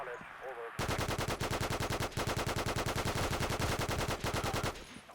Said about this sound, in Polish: nie wiedziałem, że aż tyle trzeba naboi wystukać w gościa